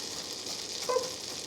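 French toast frying in melted butter in a pan, a faint, steady sizzle with a brief crackle near the end, quiet and without talk.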